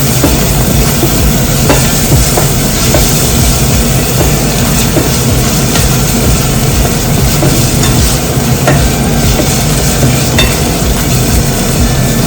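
Pumpkin curry with turmeric stirred in a pan, a loud continuous dense sizzle and scraping that runs steadily throughout without pause.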